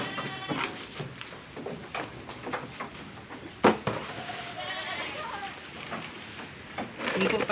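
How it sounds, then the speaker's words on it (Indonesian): Pregnant goats bleat at feeding time in a pen, with irregular calls rising over a steady background murmur and one sharper bleat near the middle. "Sekarang kita mau ngasih makan kambing yang hamil ya."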